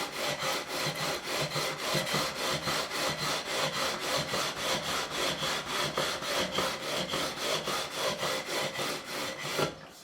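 Rapid, even back-and-forth rasping of 240 grit sandpaper leveling the frets on a Korean-made Squier Stratocaster, close and loud, continuing without pause for the full length.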